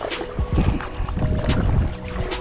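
A boat is paddled across a lake in uneven swishes and splashes, with gusts of wind buffeting the microphone over the water.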